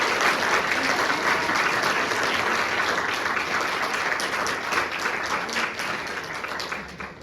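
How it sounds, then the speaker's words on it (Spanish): Sustained applause from an audience at the close of a national research seminar talk on nanomaterials, steady and dense clapping throughout that thins slightly toward the end. "Fuerte aplauso, por favor."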